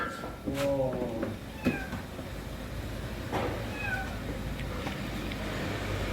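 A few faint meows from a kitten trapped in a car's engine bay rise over a low steady rumble and background murmur.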